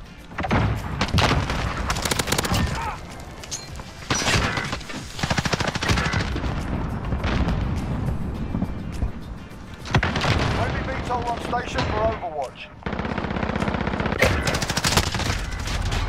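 Gunfire in a bomb-defusal multiplayer shooter game, with repeated loud bursts of automatic fire and sharp booms in close succession, broken by brief pauses, with occasional voices in the game.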